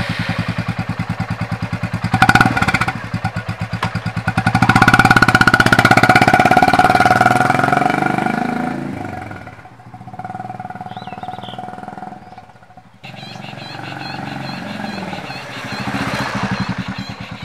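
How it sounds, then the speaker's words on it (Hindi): A Royal Enfield Classic Reborn fitted with an Indori silencer exhaust runs with a loud, steady thumping beat that surges, dips briefly, then settles back into an even throb close by, with no voices. "इसमें एग्जॉस्ट साउंड बहुत अच्छा लग रहा है, इंजन का साउंड बिल्कुल भी नहीं है।"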